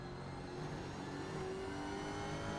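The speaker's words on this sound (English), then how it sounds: "You can hear just how quiet it is when he starts to make it round the corner" A race car in the iRacing sim rounds a corner at Spa-Francorchamps, its engine a low, quiet, steady drone with no sharp revs.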